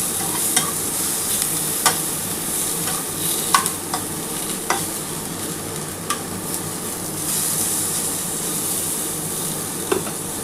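Eggplant frying in white vegetable oil in a wok gives a steady, close sizzle throughout, broken by sharp clinks and scrapes of a spatula stirring the pieces at irregular intervals.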